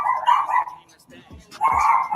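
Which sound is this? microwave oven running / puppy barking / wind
puppy barking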